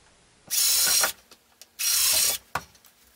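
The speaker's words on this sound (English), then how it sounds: "you take your one by one and a half and you drill through your two marks with the 3 16 drill bit" Two short bursts of a power drill with a 3/16-inch bit whirring through a one-by-one-and-a-half piece of wood, each about half a second long, separated by clicks and small knocks.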